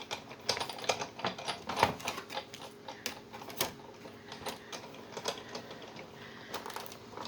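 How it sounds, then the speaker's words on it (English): A manual die cutting machine cranked by hand during card making, giving a steady run of small clicking and ratcheting mechanical sounds at close range, with no talking. "then you're going to run it through your die cutting machine"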